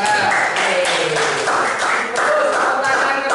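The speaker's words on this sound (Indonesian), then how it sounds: "Oke, tepuk tangan untuk Mas Afka." Classroom of students applauding a classmate, a steady burst of close, dense hand clapping filling the room for a few seconds.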